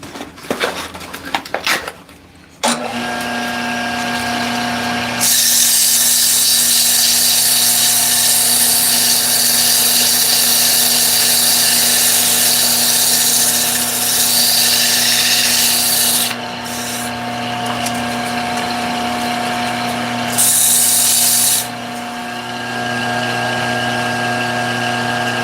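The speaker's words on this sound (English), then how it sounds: "let's do a little bit of sanding" A wooden bowling pin, its plastic coating removed, sanded while spinning on a woodturning lathe: a loud, steady hiss over the motor's hum, briefly easing twice, after some handling noise at the start.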